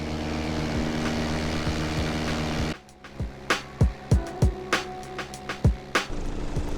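A light propeller aircraft's engine drones steadily and loudly for a few seconds, then the drone drops away and a run of sharp, regular knocks and thumps follows.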